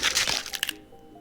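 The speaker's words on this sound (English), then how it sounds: "And smashes your head against the wall." A sharp cracking crunch of a head smashed against a wall in a video game, a quick burst of several close, loud impacts that quickly fade.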